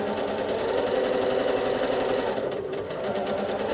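A sewing machine stitches steadily through free-motion quilting of a crack-maze pattern, laying down travel stitching as a continuous, close, loud motor whir with a fast needle chatter and no talk.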